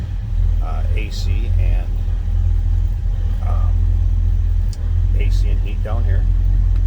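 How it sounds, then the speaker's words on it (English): A 1937 Ford Deluxe Tudor Slantback street rod's engine idles in a steady low rumble throughout, with someone talking over it. "Go ahead and fire it up for you. Starts easily, good runner."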